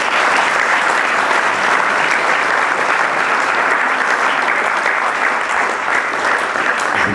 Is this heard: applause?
yes